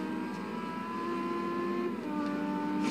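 Aston Martin race car with a 177 engine in Forza Horizon 2, a steady revving engine whine with shifting tonal pitches as it races, fairly loud and without speech.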